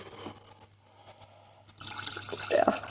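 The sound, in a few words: water added to a reducing pasta sauce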